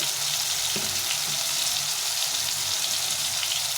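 Spices hiss and fry steadily in a hot pan as a vegetable curry base with salt, turmeric and cumin powder is stirred, a close, continuous sizzle with faint scraping clicks and no voices.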